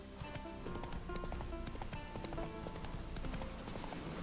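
Horse hooves clip-clopping at a quick gallop in the video game The Witcher 3: Wild Hunt, a steady rapid drumming rhythm over game sound, moderately loud throughout.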